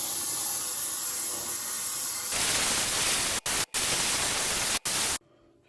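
An airbrush sprays liquid mask in a loud, steady hiss that starts after a quieter stretch, cuts out briefly three times, then stops near the end, leaving faint background noise.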